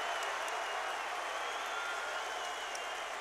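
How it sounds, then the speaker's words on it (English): A home crowd at an NCAA tournament Elite Eight basketball game between Syracuse and Ohio State applauds steadily, a dense, continuous wash of clapping and cheering that stays loud throughout. "Nice to have a home crowd."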